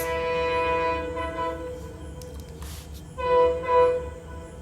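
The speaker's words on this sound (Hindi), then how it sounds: "ट्रेन की आवाज़ आपकी अभी जा रही होगी है ना।" A passing train sounds its horn in long sustained blasts over a steady rumble of rolling wagons, with the horn fading briefly and then returning loud and close.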